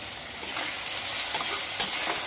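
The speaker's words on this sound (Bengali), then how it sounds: "এবার আমি পেঁয়াজটাকে ভাজছি" Onions sizzle steadily in a hot pan with ginger-garlic paste, green chili and salt, a continuous close frying hiss broken by a few stirring scrapes and clicks.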